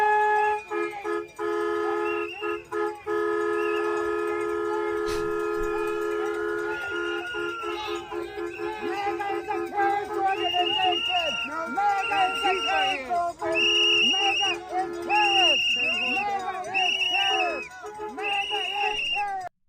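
A brand-new air horn blows repeated short blasts over the noise of a street protest, loud and close, with sustained tones first and then a rapid series of choppy bursts.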